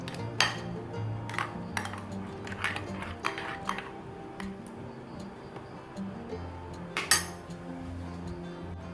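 Ground chicken marinade paste gets mixed with salt in a bowl, a spoon giving off light, intermittent clinks and scrapes against the dish, close and quiet, with a few sharper taps spread through.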